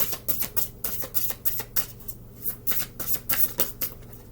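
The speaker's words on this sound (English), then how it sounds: "Let me shuffle this." Tarot cards being shuffled by hand, a close, crisp run of rapid riffling bursts repeating in an uneven rhythm for several seconds with no talking.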